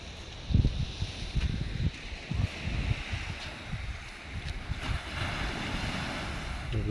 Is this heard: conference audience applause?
no